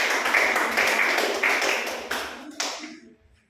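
Classroom clapping after a student presentation, a small group of hands clapping in uneven bursts that quickly taper off, ending with a final sharp clap and then quiet.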